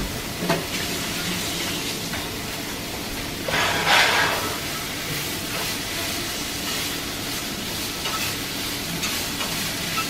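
Zucchini and other vegetables sizzle in a frying pan while being stirred, a steady broadband hiss with scraping stir strokes, one louder burst of sizzling midway, no talking.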